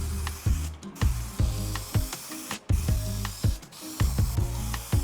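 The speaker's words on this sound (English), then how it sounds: "Okay, let's start spraying." Spray can of primer hissing onto a pine table in a series of short, close bursts separated by brief pauses, with faint rattling between them and no voices.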